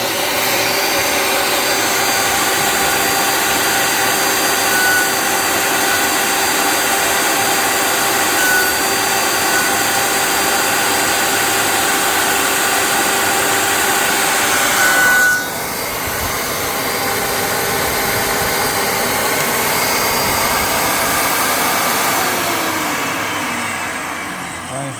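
Sliding table saw slicing through an offcut of board in a workshop, a loud steady whine from start to finish that shifts slightly partway through as the cut changes, then fades near the end.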